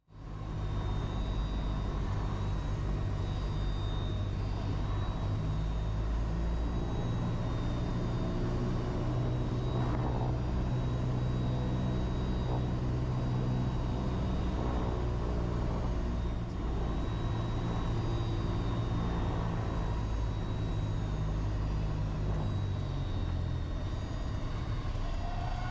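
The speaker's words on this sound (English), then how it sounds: "This is what landing a Cessna in a gusty wind looks like." A Cessna 172 landing in gusty wind, heard from inside as a loud, constant engine drone with deep low rumble and a steady tonal hum, sustained throughout.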